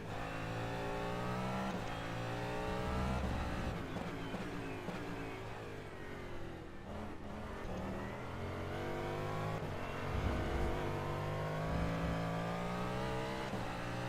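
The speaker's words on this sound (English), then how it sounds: "I'm sitting in a rally car, not in a hypercar." A rally car engine in the racing game rFactor 2 roars and revs continuously, pitch climbing and dropping through gear changes, loud and close with no talk.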